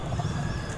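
Pigeons cooing in a loft, a brief close murmuring coo with soft low throaty pulses and no talking.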